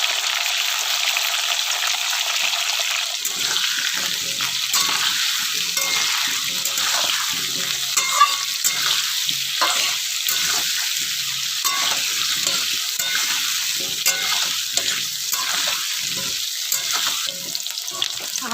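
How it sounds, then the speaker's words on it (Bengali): Potatoes frying in a pan with salt and turmeric give a steady, close, dense sizzle that runs unbroken throughout, with faint stirring scrapes and no talking. "আলু ভাজা হয়ে গেছে, তুলে নেব।"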